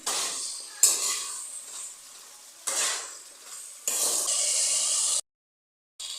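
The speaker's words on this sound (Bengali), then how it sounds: "আলু একসাথে দিয়ে ভালো করে কষিয়ে নেব" Potatoes, tomatoes and fish with okra stir-fried in oil, the spatula scraping and clattering in the pan over a steady sizzle, loud in bursts with short pauses and a brief silence near the end.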